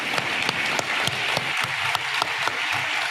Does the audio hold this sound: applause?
yes